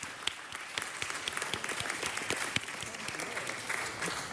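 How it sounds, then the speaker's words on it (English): Audience applause at a city council meeting, honoring three student champions from a school and their coach; steady, dense clapping from a room full of people, moderately loud and sustained throughout. "Give them a round of applause."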